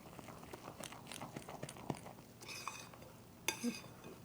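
Eggs for a Persian green onion frittata are mixed in a bowl, with faint, close clinks and scrapes of a utensil against the dish in an irregular rhythm, quiet and without speech.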